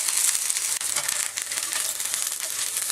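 Chicken pieces coated with rice flour deep-frying in hot oil until brown, a steady dense sizzle and crackle that carries on without a break, close and fairly loud.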